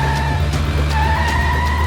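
A vehicle pulls away quickly with a loud, sustained engine roar and a faint tire squeal, heard close and continuous.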